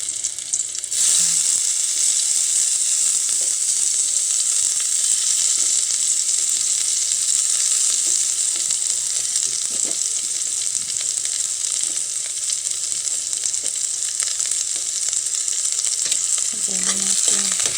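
Garlic sautés in a very hot pan for a simple sardine-and-vegetable dish, giving a loud, continuous sizzle and crackle from just after the start to the end, with faint stirring scrapes.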